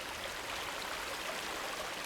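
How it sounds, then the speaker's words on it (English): Water running down the Starr Trail near the Rhode Island–Connecticut line, a steady broadband rushing and trickling flow heard close and alone, with no voices over it. "And this is the water flowing down the Star Trail"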